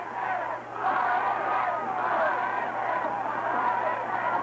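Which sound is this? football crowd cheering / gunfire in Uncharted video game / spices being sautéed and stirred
football crowd cheering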